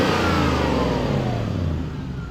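A Lexus GS400 V8 engine, in healthy condition, runs loud and close in a brief revved burst whose pitch sinks steadily as it winds back down.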